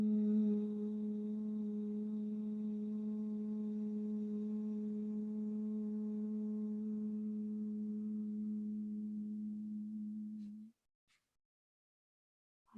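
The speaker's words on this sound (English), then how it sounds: "we're going to take one round of Brahmari humming bee breath" A steady, close humming exhale during a yoga session's humming bee breath, about ten seconds of a single sustained tone that stops abruptly, followed by near silence.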